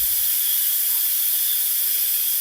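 An electric multi-cooker pressure cooker vents steam in a loud, continuous hiss that stays steady throughout, with a few faint low thumps near the start and end.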